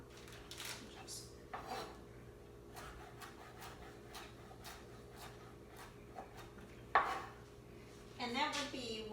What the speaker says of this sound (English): I'm going to chop up some cilantro.